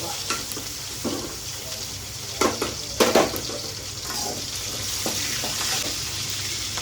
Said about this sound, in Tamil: நண்டு கிரேவிக்கு வந்து இஞ்சி பூண்டு போட்டுக்குவோம் கொஞ்சம் நல்லா வதங்கினோன்னா